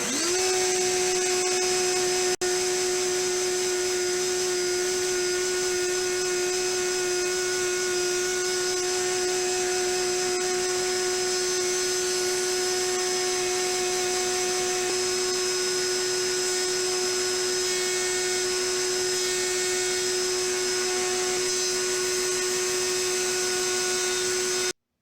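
A router fitted with a guide bearing bit cutting a guitar pickguard, giving a continuous high-pitched whine that holds steady at close range with no talking.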